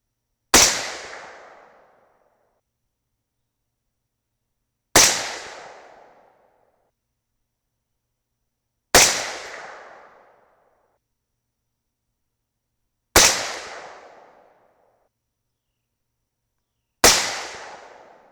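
Five single .308 Winchester rifle shots firing 175-grain Sierra Match King handloads with IMR 4064 powder, each a loud, sharp crack with a short fading tail, spaced about four seconds apart, with no talking.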